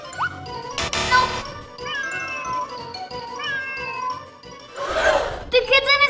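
A kitten meows from inside a box, giving several high, wavering cries with a jingle and some rustling mixed in, close by and loud, under a speaking voice.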